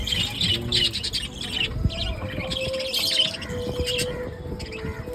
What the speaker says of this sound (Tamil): இந்த வெள்ளை வெள்ளை பறவை இருக்குது